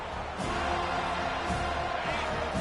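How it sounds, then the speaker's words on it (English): A large stadium crowd at an American football game roars continuously, a dense and sustained wash of cheering and noise with no distinct pauses. "Listen to this crowd just shaking the girders of this place trying to help their defense."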